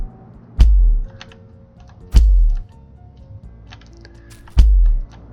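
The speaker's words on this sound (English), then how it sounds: "he's going to walk on some thumbtacks here" A placeholder video game sound plays as a character walks on thumbtacks: three loud, punchy thuds spaced about two seconds apart, each with a short crunchy tail, over a faint background.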